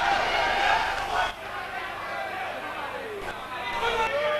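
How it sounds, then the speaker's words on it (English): A capacity crowd at a kickboxing fight in the Empire venue roars and chatters steadily throughout, a dense, distant wash of cheering with a commentator's voice running over it. "really ignited the capacity crowd here at the Empire"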